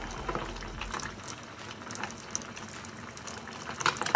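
Horse mackerel deep-frying in very hot oil, a dense steady bubbling and crackling sizzle at close range with small sharp pops, and no voices.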